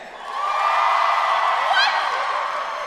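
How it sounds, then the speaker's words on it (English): Comedy club audience cheering and whooping, a dense sustained roar of many voices that swells quickly and holds steady, with a few shrill whoops cutting through near the middle. "Cheer if you think that's okay."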